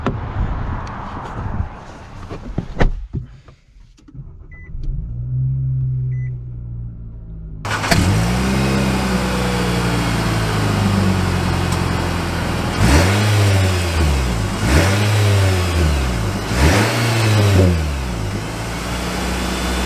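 A 2022 Nissan Sentra SR engine starts and settles into a steady idle, then revs several times in repeated rising and falling sweeps, loud and close.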